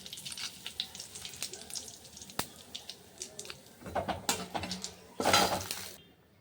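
Bay leaves, dried chillies and cumin seeds crackle and sizzle in hot oil, with scattered pops, a few utensil clinks, and a louder burst of sizzling toward the end.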